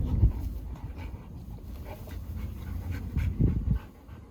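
Two Cane Corso dogs pant after rough play, a steady soft breathing rhythm close by with a few louder huffs and low snuffles near the start and end.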